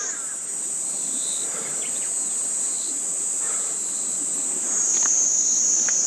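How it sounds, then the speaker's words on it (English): Cicadas on Ninoshima, Hiroshima, buzz in a steady, high, shrill drone throughout, fairly loud and continuous, swelling slightly near the end, with no voices. "Oh, maybe you can hear the cicadas now."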